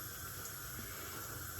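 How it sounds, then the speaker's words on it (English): Tap water running steadily into a sink while water is gradually added to shaving soap or lather, a continuous close hiss with no voices. "So I'm adding water gradually here."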